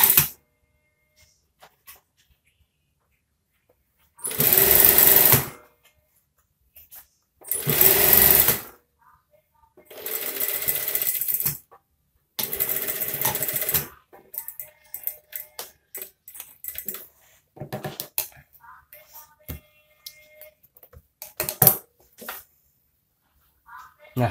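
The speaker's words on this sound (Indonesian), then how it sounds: "oke jahit langsung saja seperti ini" A sewing machine stitching fabric for a front button placket, running in several loud bursts of rapid whirring stitches separated by pauses, with soft handling clicks and light tapping in between.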